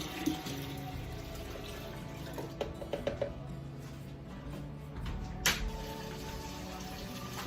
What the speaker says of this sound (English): Just add a little more water,